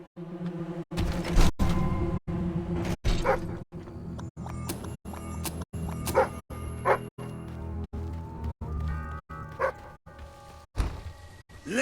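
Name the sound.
dog barking in the video game Fable 3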